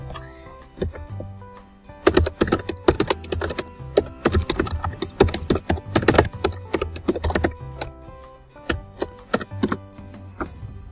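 Computer keyboard typing in irregular bursts of quick clicks, with short pauses between flurries; close and fairly loud, no talking.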